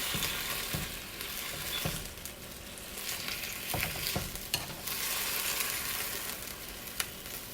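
Broccoli beef stir-fries in a pan with a loud, continuous sizzle, punctuated by repeated scraping knocks as the food is flipped and turned.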